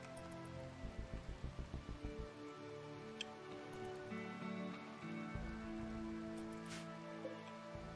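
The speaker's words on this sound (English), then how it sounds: "Let's dance in the rain." Rain patters in the Rimworld video game as a soft, steady, faint hiss, with a run of rhythmic ticking clicks early on and occasional game chimes.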